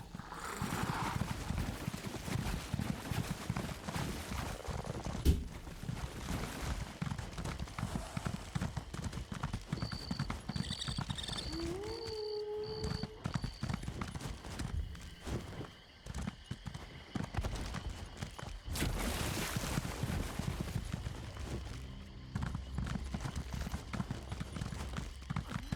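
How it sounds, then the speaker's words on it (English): A horse's hooves clip-clop steadily in Elder Scrolls Online while the rider travels, a continuous rhythmic trot with brief tonal game chimes and a short whinny partway through, no talk. "hop on the horse."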